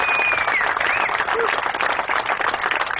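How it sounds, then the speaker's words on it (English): Audience applause in a hall full of people honoring the Founding Fathers at a gun-rights gathering, dense steady clapping that stays loud for the whole stretch, with a few faint whistles or cheers mixed in. "a big round of applause for the Founding Fathers"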